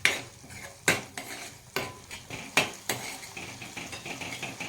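A spoon stirs spiced yogurt tempered in a pot, Gujarati dahi vagharelu, producing repeated metal scrapes and clanks against the pot at an irregular rhythm over a soft background sizzle, close and fairly loud.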